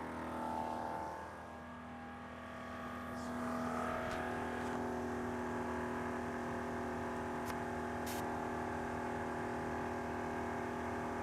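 A Vevor 10 CFM off-road air compressor runs steadily, its motor drone and hum continuous and fairly loud as it inflates a nearly flat tire, with no talk over it.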